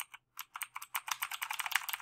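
Computer keyboard keys clack in a quick, uneven run of close, crisp presses, starting with a couple of taps, a short pause, then a denser burst of typing with no one talking.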